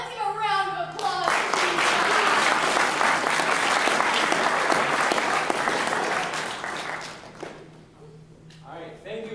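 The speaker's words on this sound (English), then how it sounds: "let's give a round of applause" Audience applauding two volunteers at a robotics team-building event, a dense burst of clapping that swells quickly, holds for several seconds and fades, with speech just before and after it.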